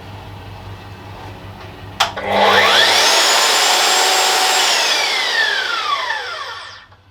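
A Mafell MKS130EC circular saw, a deep-cutting 130 mm model, switches on with a sharp click and then winds up gradually through its soft start to a loud, steady whine before spinning down and fading out.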